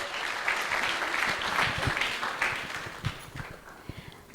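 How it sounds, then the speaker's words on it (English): A temple audience at a Sunday love feast breaks into a round of applause, a dense wash of clapping that swells and then thins out into scattered claps, with faint voices underneath. "Let's give him a round of applause"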